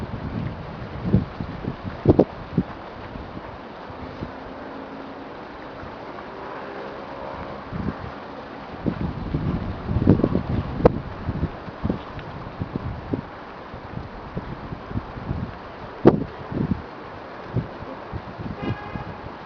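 Steady wind rushes and buffets across the whole stretch around a model boat on water, with gusty low rumbles and occasional small knocks and splashes, no voices.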